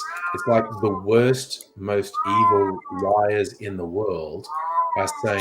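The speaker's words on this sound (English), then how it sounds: "Whose cat is that?" A cat meowing repeatedly during a livestream, drawn-out meows at intervals mixed closely with a person talking over them.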